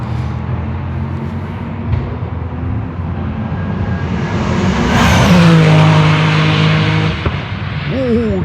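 GT Cup and Porsche Cup race cars at Brands Hatch roar past close by, one engine swelling loud and then sweeping down in pitch as another approaches, with a steady hum of distant cars underneath.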